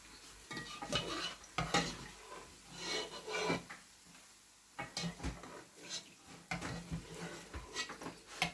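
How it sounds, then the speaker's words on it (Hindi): Golden fried onions are scooped from a pan of hot oil while cooking nihari, giving scraping and stirring scrapes with a soft sizzle underneath, the utensil strokes coming in irregular bursts close by, with no talking. "ये प्याज हैं ये बहुत अच्छे से ये देख लें गोल्डन हो गए और अब हमें इन्हें निकाल लेना है"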